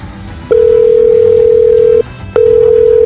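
Telephone ringback tone while a call is placed, a loud steady electronic tone sounding in two long bursts separated by a brief gap.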